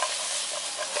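Onion fries in a shaken wok with a steady, bright hiss of hot oil, close and even, swelling slightly in waves as the pan moves.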